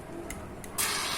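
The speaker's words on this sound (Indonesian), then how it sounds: "Kita semprot lagi, nanti dia tuh keluar lagi kan karatnya" Cleaner sprayed onto a rusty, sticking brushless drone motor: a short hiss near the end follows quieter ticking and faint background noise, with no talking.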